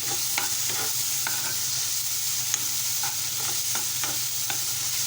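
Potato and tomato mixture stirred in a pan for Malvani-style potato bhaji, spoon scraping in scattered clicks over a steady close sizzle, with no voices.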